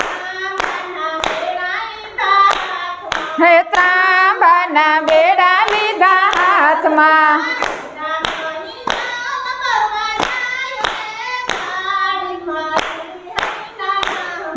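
Hands clap in a steady rhythmic beat along with a sung Gujarati devotional kirtan, sharp claps falling regularly between lines of a solo voice singing throughout.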